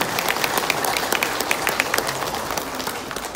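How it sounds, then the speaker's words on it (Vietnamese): Applause at a Buddhist temple gathering, a dense patter of many hands clapping together for a few seconds, lively and close, without speech. "Xin cho tràng pháo tay thật lớn."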